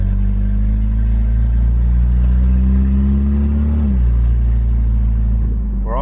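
A car engine with a loud exhaust rumbles steadily and close by, a deep drone that rises slightly in pitch and then drops back toward the end, running alone throughout.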